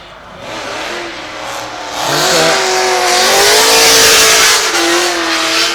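Chevrolet V8 engine in a Nissan 350Z drift car revs hard during pro qualifying at a British Drift Championship round in Birmingham, a loud rising engine roar with shifting pitch and faint tire squeal, growing louder after two seconds.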